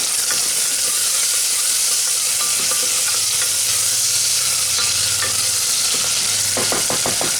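Tomato fries in a pan for a mutton curry, a loud, continuous close-up sizzle with occasional stirring scrapes and no voices.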